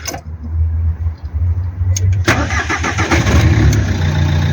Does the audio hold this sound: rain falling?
no